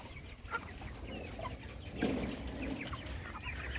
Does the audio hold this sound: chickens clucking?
yes